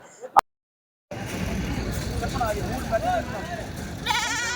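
Goats and sheep bleat at a busy weekly livestock market in Kadiri, scattered calls rising over crowd noise and people talking nearby, after a brief moment of silence at the start.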